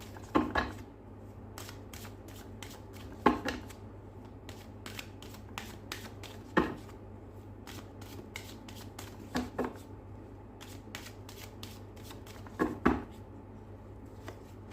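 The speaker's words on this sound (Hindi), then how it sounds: "चलिए मैं इसमें से कार्ड निकाल देती हूँ" Playing cards are shuffled and drawn in repeated bursts of crisp riffling and snapping, each burst about three seconds apart, close and clear in a quiet room with no talking.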